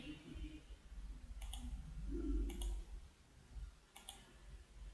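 Computer mouse double-clicking during a slide presentation: three faint paired clicks spaced about a second apart over low room hum, with no clear talk.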